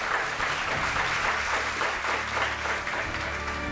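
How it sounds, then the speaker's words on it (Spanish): A studio audience at a televised quiz show applauds the winner in a steady, continuous wash of clapping that holds at a moderate level from start to end, with no speech over it. "Un aplauso para Renier."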